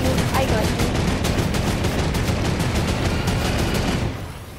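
Loud, sustained gunfire rattles in a video game, with rapid, unbroken automatic shots for about four seconds before it cuts off and fades, while voices talk underneath.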